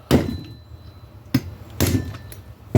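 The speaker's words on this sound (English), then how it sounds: "So you only need to give it 1 or 2 whacks" Two loud hammer whacks on a Husqvarna chainsaw part held still by rope in the piston, separated by quiet, with a fainter tap near the end; no talk.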